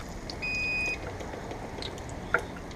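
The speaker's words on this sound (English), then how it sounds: "Set the timer." A kitchen timer gives a single short electronic beep as it is set beside a deep fryer for chicken wings and cheese sticks, clear over a quiet background hiss.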